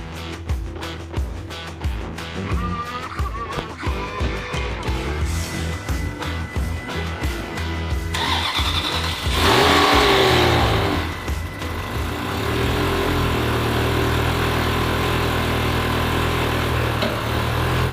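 A neglected Ferrari 360 Spider engine cranks in repeated stuttering bursts, catches, then idles and revs loudly close by, its rough running note filling the space.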